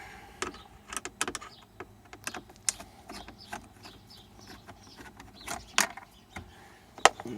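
Phillips head screws being unscrewed during a car CD player install, heard as a run of quiet clicks, squeaks and scraping ticks with a few sharper metallic taps, close and sparse, without talk.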